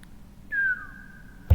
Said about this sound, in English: Did I just whistle?